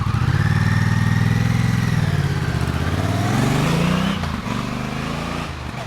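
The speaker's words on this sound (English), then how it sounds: "I really like the exhaust note on this bike" Deep, throbbing exhaust note of a 2024 Honda CMX1100 Rebel on its standard exhaust, loud and close, with a pulsing idle-like beat that rises in pitch as the engine revs, then eases.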